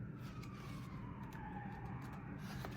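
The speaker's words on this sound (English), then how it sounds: "Here come the sirens again." Emergency sirens passing outside, faint and distant, with wailing tones that slowly rise and fall over low background rumble.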